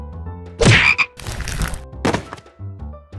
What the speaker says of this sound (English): there's a frog